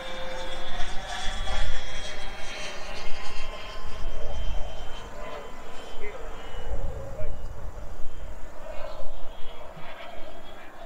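A Xicoy 45 micro turboprop model airplane engine drones and pulses as it flies overhead, while people talk nearby over the noise.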